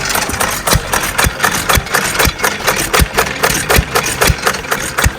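A single-cylinder hit-and-miss Stover engine chugs steadily with sharp, regularly spaced firing beats and a clattering mechanical rhythm, close and loud throughout, at a vintage engine steam-up.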